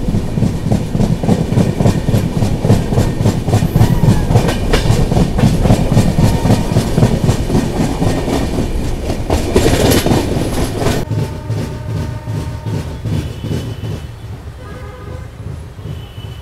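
The Mangalore–Mumbai CSMT SF Express runs loud and close, with a rapid, steady clickety-clack of wheels over rail joints, a rushing roar, and brief tonal squeals as it eases near Kumta station.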